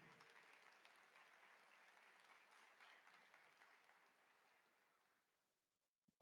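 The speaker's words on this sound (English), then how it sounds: "Let's have a round of applause for the judges." Faint applause from a convention closing-ceremony crowd, a soft wash of clapping that carries on for several seconds, then fades out into near silence.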